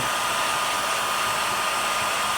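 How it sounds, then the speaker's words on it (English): A hair dryer blows continuously at a steady, loud pitch, close by, with no other sounds, used to heat plastic. "That's why we're using a hair dryer and a piece of wood."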